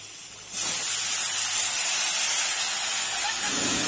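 Onions and potatoes sizzle in a cooking pan, a sudden loud hiss that bursts in as the potatoes hit the hot oil and then holds steady and close.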